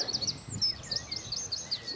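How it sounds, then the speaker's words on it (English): High, repeated chirping bird song rings out steadily at moderate distance in the morning, with no talking. "Birds are singing."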